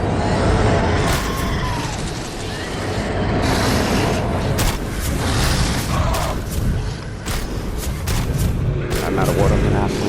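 Turrets and guns fire in Space Hulk: Deathwing as loud, heavy bursts and booming shots that repeat across a rumbling, chaotic battle. Someone talks over the gunfire.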